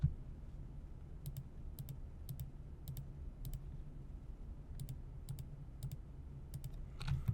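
Mouse clicks on a computer while the Shift key is held down, each click a faint, crisp tick, often in quick pairs, spread irregularly across a quiet room-tone background.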